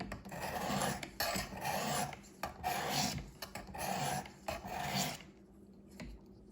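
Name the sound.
knife sharpening on Work Sharp Precision Sharpener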